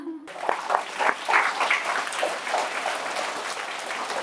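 A crowd of schoolchildren and adults claps for their teachers at a televised school event, a few seconds of dense, steady applause close by, with a brief voice at the start.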